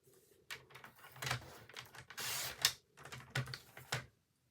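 Paper offcut being cut to size, a run of close, crisp scraping and clicking strokes with short pauses, no talk.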